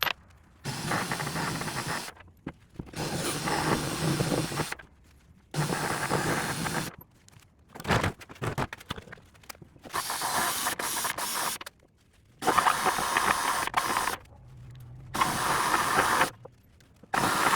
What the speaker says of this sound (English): So I went ahead and powered forward, and we reinstalled the bolts.